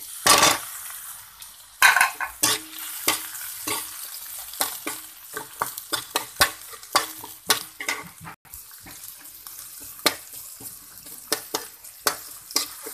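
Chopped onions added to a pan with garlic, stirred with a utensil that clacks against the metal over a soft sizzle, in a home kitchen cooking ginisang sayote.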